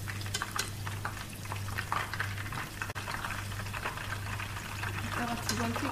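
Shrimp fry in hot oil with a dense, continuous crackle and bubbling at close range, steady throughout with a low hum beneath.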